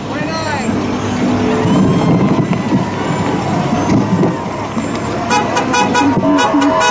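A vintage fire truck rolls past in a street parade, its engine rumbling under crowd noise, with a burst of short horn toots near the end.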